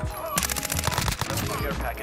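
Rapid bursts of SMG fire in a Modern Warfare video game, a dense, loud rattle of shots starting abruptly and running almost continuously, with faint talk beneath.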